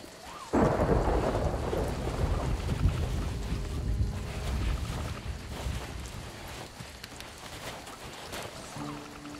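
A thunderstorm with heavy rain in the pirate sailing game Sea of Thieves: a sharp thunder crack rolls into a dense, loud wash of rain and rumbling low noise that stays steady throughout, with no talking.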